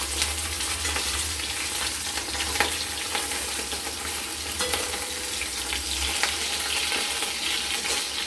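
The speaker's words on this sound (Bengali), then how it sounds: "মাছগুলো প্রায় ভাজা হয়ে গেছে।" Pieces of fish fry in a pan of oil, making a continuous close sizzling hiss with small crackles and pops and no voices.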